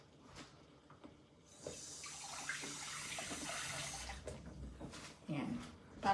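Water runs from a kitchen faucet into a cooking pan holding marinated sauce, a steady hiss lasting a few seconds before stopping, followed by light clatter; someone speaks nearby.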